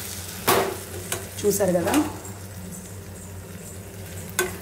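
Tomatoes for a tomato curry fry in a pan, with a soft sizzle under a few scrapes and clatters of a spoon stirring nearby; a voice speaks briefly over the cooking.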